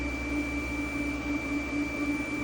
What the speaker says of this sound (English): that TIG cooler is like high pitched, annoyingly so.